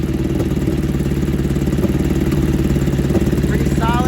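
A Honda Magna V4 motorcycle with straight-pipe exhaust idles steadily up close with a rough, lumpy rhythm and constant loud rumble, a brief voice-like sound near the end.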